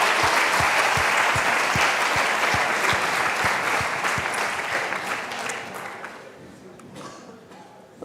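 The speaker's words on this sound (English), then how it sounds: "Let's give them an applause." A conference audience applauds at a biosciences forum, dense steady clapping that is loud at first and gradually thins and fades toward the end.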